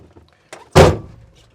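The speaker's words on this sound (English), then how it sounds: "close the door" The door of a Subaru Sambar kei truck shuts with one solid, close thunk after a faint click, followed by a brief ring-out and near silence.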